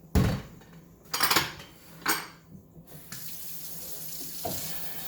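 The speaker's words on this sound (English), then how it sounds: "I'm going to run some cold water over it." Cold water runs from a kitchen tap over a pressure cooker, a steady splashing stream with several sharp metallic knocks and clatters near the start, close and without talk.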